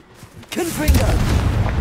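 A Confringo blasting spell explosion in Hogwarts Legacy, a loud booming blast that swells after a short quiet lead-in and rumbles on heavily, with a brief voiced sound near the start.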